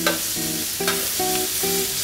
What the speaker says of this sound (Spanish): Sofreímos el secreto ibérico